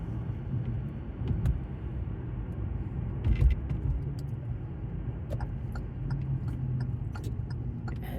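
Steady low rumble of a car driving through Sunday morning traffic, heard from inside the cabin, with a few faint clicks and knocks and no talking.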